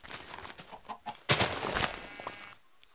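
A chicken clucks in the video game Minecraft, giving short scattered clucks and then a louder burst in the middle, close and alone with no speech.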